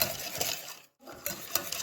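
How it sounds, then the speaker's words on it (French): Milk stirred into a mixture for îles flottantes, close rhythmic whisking and scraping against a bowl with a brief pause midway. "On continue de remuer."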